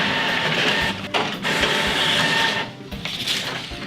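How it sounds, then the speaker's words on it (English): Epson WF-5110 inkjet printer running a nozzle check print, a steady close mechanical whir and buzz of the printhead carriage and paper feed with brief pauses and shifts in pitch, no talking. "it will start printing a nozzle check"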